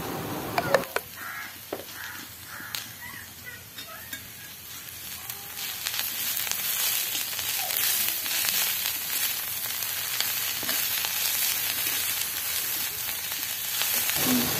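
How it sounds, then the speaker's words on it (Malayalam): Cabbage wilting with salt in a hot pan for a Kerala-style upperi, giving a steady, loud frying sizzle that swells after a few seconds and continues without talk. "ഇനി നമുക്കൊരു ടീസ്പൂൺ ഉപ്പിട്ട് കാണ്ട് ഇതൊന്ന് നല്ലവണ്ണം വാട്ടിയെടുക്കാം"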